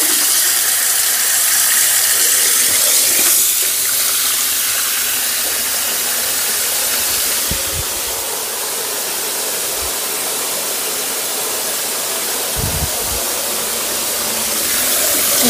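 Water draining and running from a tap into a basin while rinsing soapy wool felt, a steady loud rushing hiss that continues unbroken with no voices.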